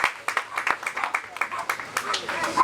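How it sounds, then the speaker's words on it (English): A pet carnival audience gives a short round of scattered hand claps, close by, mixed with a voice talking over them. "So can we give them a round of applause again?"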